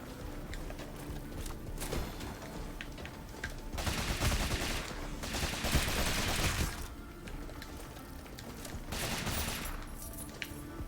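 Repeated rapid gunfire from the red pistol in the game Rogue Legacy, with clusters of fast shots rising and falling over a busy, faint background of game sounds.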